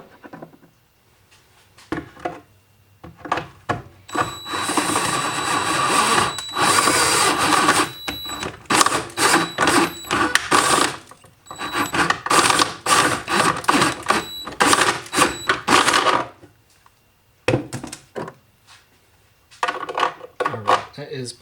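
Drill boring an oil bung hole with a 15/16 inch bit during a 1967 Camaro rebuild, heard as choppy grinding bursts with pauses, close and loud, between stretches of someone talking.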